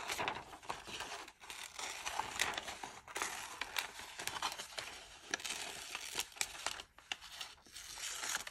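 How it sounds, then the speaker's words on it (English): Paper being torn by hand into pieces for a collage, a steady run of ripping and crinkling bursts, close and fairly loud, with no talking. "rip them up."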